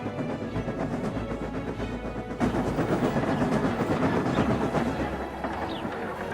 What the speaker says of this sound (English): Gordon pulled the Express, the most important passenger train on the line